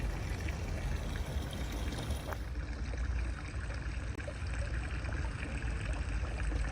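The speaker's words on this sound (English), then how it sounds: "I hear the sounds of the water falling." Water falls steadily in a Machida garden in Tokyo, a broad continuous rushing wash at moderate level, heard alone without talk, with faint distant traffic blending underneath.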